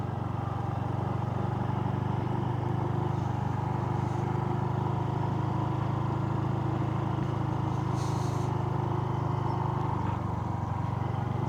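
An automatic scooter on street tyres crawls slowly across sand on the Penanjakan route to Bromo, its engine a steady close drone with a low hum throughout and no voices.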